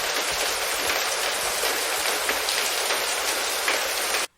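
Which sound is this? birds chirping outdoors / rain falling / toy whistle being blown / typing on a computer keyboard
rain falling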